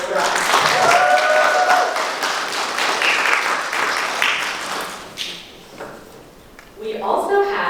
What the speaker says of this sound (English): So can everybody give a round of applause for Sarai?